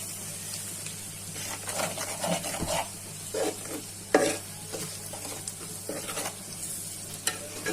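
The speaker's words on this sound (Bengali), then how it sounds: "এখন নেড়ে চেড়ে মশলাটা কষিয়ে নিচ্ছি" Spice masala with cumin powder and salt, prepared for a pangas fish dopeyaza, is stirred and fried in a pan, a steady low sizzle broken by repeated scraping strokes of a spoon, close up with no voices.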